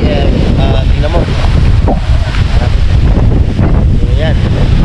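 Strong, storm-like wind roars continuously and loudly across the microphone at a coastal campsite in Dingalan, Aurora, buffeting the tents, with a voice speaking briefly under the gusts.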